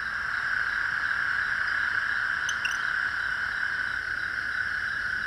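A steady high-pitched chirring drone from a gecko continues throughout, with a couple of faint sharper chirps partway through, no voices present.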